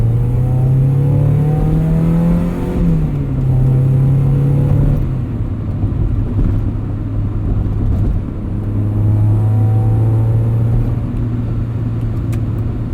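A 1994 Mazda MX-5 Miata engine with a 5-speed manual drones steadily, its pitch climbing and dropping between gear changes, loud and close with no voices.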